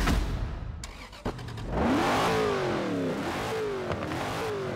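A Hot Wheels pack car in Forza Horizon 4 starts with a cranking click, then its engine catches and revs in rising and falling throaty pulls before settling to a steady idle, close and loud with no voices.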